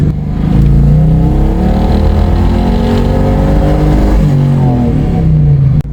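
A car engine fitted with a new cold air intake and air cleaner revs hard and holds high RPM, a loud close sustained roar that climbs, holds and drops back before rising again, with no talking.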